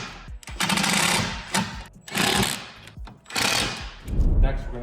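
Power driver running T30 Torx screws into a plastic frame under an Audi SQ8 with the 4.0 V8, in three buzzing bursts separated by short pauses, close and fairly loud.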